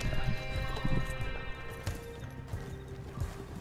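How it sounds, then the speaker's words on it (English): Horse hooves clip-clopping with a whinny in Red Dead Redemption 2, irregular hoof thuds over a busy game backdrop of music and ambience, fairly loud with no talk. "Look at that magnificent horse."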